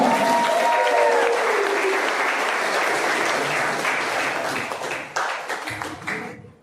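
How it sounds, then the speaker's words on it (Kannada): Loud, sustained audience applause fills a hall at a boot camp celebration, steady and dense before tapering off toward the end, with faint voices underneath. "ಸೊ ಅವರ ಟೆಸ್ಟಿಮೋನಿಗೋಸ್ಕರ ನಿಮ್ಮ ಜೋರು ಚಪ್ಪಾಳೆ ಮುಖಾಂತರ"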